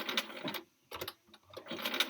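A sewing machine with a needle-down feature and knee lift stitches a quilt block, running in short close bursts of rapid mechanical whirring separated by brief pauses.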